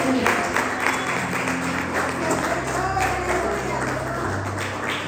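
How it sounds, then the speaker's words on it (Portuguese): Congregation clapping cheerfully for Jesus during a church consecration service, scattered rhythmic claps over sustained tones, moderately loud and steady. "Palmas bem alegres para Jesus."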